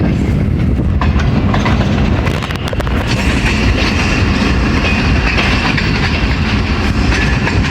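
Awam Express passenger train with an old power car and a new rake arrives at Attock City Junction, loud and close, wheels clattering in a steady rumble with wind buffeting.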